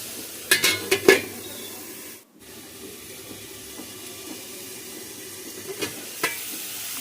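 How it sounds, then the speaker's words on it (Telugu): Masala paste for a country chicken curry frying in oil, giving a steady low sizzle throughout, with a few sharp metal clinks of a spoon against the pan near the start. "ఇది కూడా పచ్చి వాసన పోయేదాకా వేగాలి"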